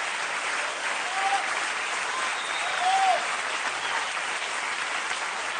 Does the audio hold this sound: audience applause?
yes